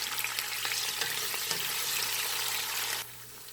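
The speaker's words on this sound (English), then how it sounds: "I'm just going to saute these until they're softened" Onions and peppers sautéing in a pan until soft: a dense, continuous sizzle with faint stirring clicks, close by, that drops to a quieter hiss near the end.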